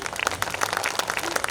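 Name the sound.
audience applause at a poetry gathering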